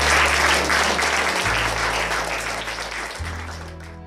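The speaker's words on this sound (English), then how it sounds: "I want to give yourselves a round of applause" Sustained applause from a crowd, dense clapping that holds steady and fades slightly toward the end.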